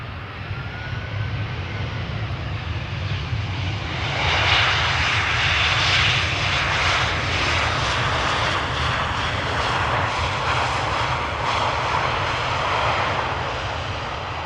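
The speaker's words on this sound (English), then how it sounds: "EasyJet flight 23859 arriving from Milan Malpensa" An EasyJet Airbus A320 jet arrives at Amsterdam Schiphol, its engine roar steady and close, swelling slightly louder midway as it passes, with no voices.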